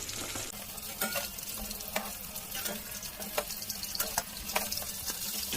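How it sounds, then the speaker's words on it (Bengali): Fish pieces fry in hot oil in a pan for a malai curry, giving a steady sizzle broken by scattered sharp clicks and scrapes of stirring, close and moderately quiet. "এই তেলে বাকি মাছগুলো ভেজে নেব।"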